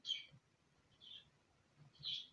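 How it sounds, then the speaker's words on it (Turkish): Faint high chirps from a small bird sound three times, spaced about a second apart, over a quiet low rumble. "Bizim kuş çıldırdı."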